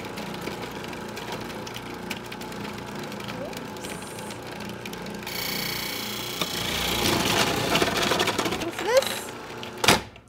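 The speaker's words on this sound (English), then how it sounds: "I'm going to just run the butternut squash with the food processor." A food processor grinds butternut squash in a kitchen, a steady whirring motor hum that grows louder and rougher toward the end, with a sharp clunk near the close.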